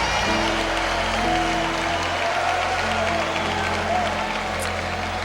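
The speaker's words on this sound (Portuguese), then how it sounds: "Aplauda Jesus." A Pentecostal congregation at a Portuguese-language service claps for Jesus, dense applause and crowd noise running steadily over a sustained low musical drone, loud and close throughout.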